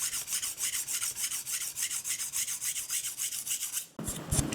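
A kitchen knife is sharpened on a dual-sided whetstone in rapid, even back-and-forth strokes, about six per second, a close gritty rasping that stops briefly before a few clunking handling sounds.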